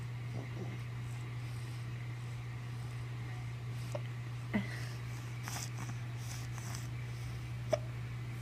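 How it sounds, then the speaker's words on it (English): A two-month-old baby hiccups a few times, each a faint, brief catch spaced seconds apart over a steady low hum in a quiet room. "You got the hiccups, don't you?"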